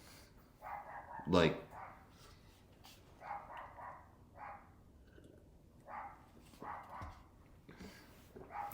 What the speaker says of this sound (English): beyond the most annoying dog ever